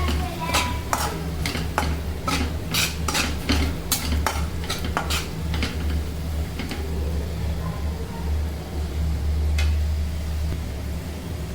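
Green chilies stirred into kundru sabzi in a pan, with a rapid series of sharp metal spatula clicks and scrapes over a steady low sizzle, busiest early and thinning out toward the end.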